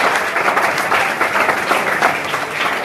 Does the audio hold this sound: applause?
yes